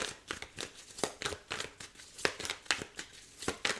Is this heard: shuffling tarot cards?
yes